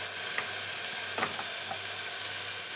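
Ginger and garlic paste fries in a pan with a soft steady sizzle, marked by a few brief scraping stirs of a spoon, close by and without speech.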